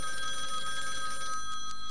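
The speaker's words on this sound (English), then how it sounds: "Is that the phone?" A telephone rings continuously with a bright electronic trill, heard at moderate distance over background noise with no speech.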